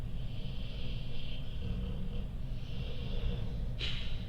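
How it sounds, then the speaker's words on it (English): A dog snores nearby with rough, low, snorting breaths that swell and fade in a slow rhythm, ending in a sharper snort, with no talking. "My dog is snoring."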